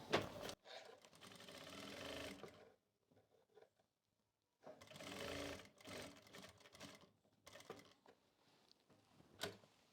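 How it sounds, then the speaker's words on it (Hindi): Domestic sewing machine stitching across pressed saree pleats, running in two long bursts of steady rapid needle chatter separated by a quiet pause, close and clear with no talk. "अब सभी प्लेटों को ऐसे बिल्कुल बराबर करते हुए यहां से हमें सिलाई लगा लेनी है ऊपर की तरफ से।"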